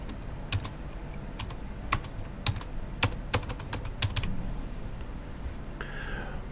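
Keys clack on a computer keyboard in short, irregular bursts of taps, quiet and close, with a brief pause before a few final keystrokes.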